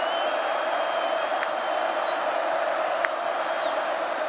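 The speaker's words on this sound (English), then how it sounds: "This crowd making some noise." Football stadium crowd at a K-State vs North Dakota game, a steady, dense roar of cheering and noise filling the whole stretch, with a faint whistle-like tone gliding above it and a brief sharp clap near the end.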